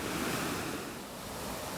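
Waves wash over a rounded-pebble beach in Yangyang on Korea's east coast in autumn, a steady broadband surf roar that swells slightly and stays continuous and close, with no voices.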